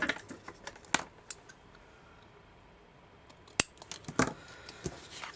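A piece for a grandfather clock is trimmed along its score line: a few sharp, close snips and clicks, scattered and irregular over a quiet background.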